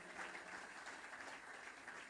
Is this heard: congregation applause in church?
yes